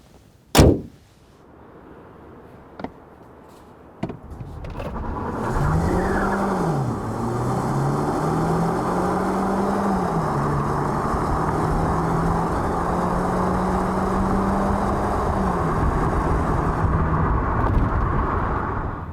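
A 2021 Kia Optima Hybrid with a six-speed automatic and front-wheel drive accelerates hard to 60 mph, its engine note rising and shifting through several gears in a loud, steady drone after a few sharp clicks and thumps at the start.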